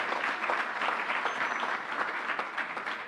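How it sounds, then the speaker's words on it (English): An audience at a New York political event gives a continuous round of applause, an even wash of many hands clapping at moderate distance for about three seconds with no speech over it. "Let's give him another round of applause."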